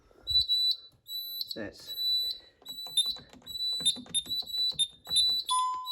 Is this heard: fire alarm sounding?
yes